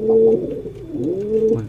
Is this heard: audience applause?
no